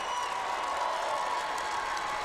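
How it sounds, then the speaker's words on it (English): Steady applause from a crowd of fans at a girls' high school basketball championship game, a dense even wash of clapping that fills the whole space. "They applaud the efforts of this team that will pick up the second place trophy"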